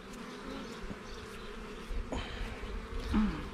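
Honeybees hum and buzz around an opened hive during a honey harvest, a steady close drone with individual bees passing near and a few soft knocks of handling.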